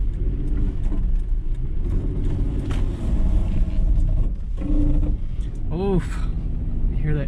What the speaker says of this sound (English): You hear that ABS?